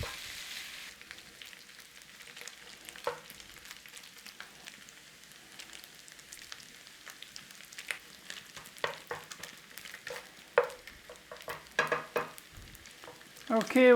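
Butter and bacon fat sizzle in a frying pan for home-cooked southern-style Hoppin' John, a steady soft frying hiss broken by scattered louder pops and spatters that grow more frequent later on.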